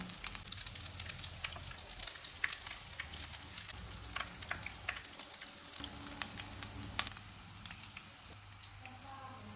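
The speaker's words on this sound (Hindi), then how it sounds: "कबाब फ्राई हो गए हैं, इनको निकाल लेते हैं।" Chicken vegetable kebabs fry in oil with a soft, steady crackle and sputter of small pops, fairly quiet and close, while a faint voice talks in the background.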